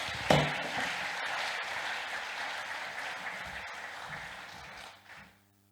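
Audience applauding after a speaker at the GYAS 2022 event, a sustained wash of clapping that starts with a sharp clap, holds steady, then fades out.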